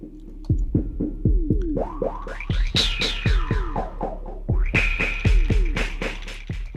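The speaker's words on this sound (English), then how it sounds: "Add a beat delay." A group of electronic sounds with a beat delay effect applied: rhythmic percussive hits and bending synth tones repeating in echoing, tempo-locked patterns, loud and close with no talking.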